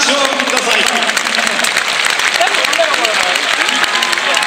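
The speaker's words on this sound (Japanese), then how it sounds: "今一度大きな拍手をください" A stadium crowd at Yokohama Stadium applauds after the ceremonial first pitch of a Yokohama DeNA BayStars versus Hanshin Tigers baseball game, with dense, continuous clapping from many hands and some crowd voices mixed in.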